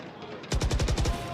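Rapid burst of automatic gunfire in Valorant during a professional esports match, about eight sharp shots in quick succession, loud and close after a brief quiet moment.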